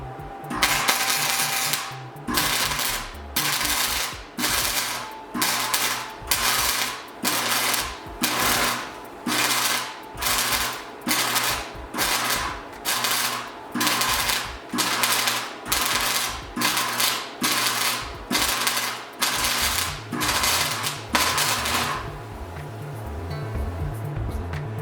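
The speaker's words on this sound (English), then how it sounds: "Okay, I have a working welder." A MIG welder makes test passes in a home workshop: about twenty loud, buzzing bursts of roughly a second each, evenly spaced in a steady rhythm. A continuous machine hum is left running at the end.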